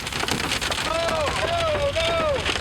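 Typhoon Nepartak storm with heavy rain pounding a surface and gusting wind, a steady dense roar throughout, with a few wailing tonal sweeps riding over it midway.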